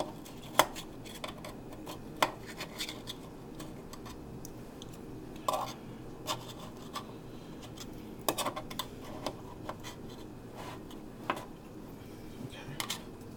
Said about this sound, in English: I'll try and get them out with the spoon.